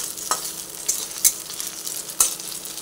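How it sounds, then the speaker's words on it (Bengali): Ginger, onion and garlic frying together in a pan with a steady sizzle, broken by a few sharp stirring scrapes, with no voices. "আদা, পেঁয়াজ, রসুন সবই একসঙ্গে ভেজে নিলাম।"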